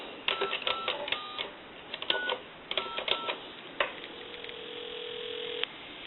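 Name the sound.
telephone dialing a number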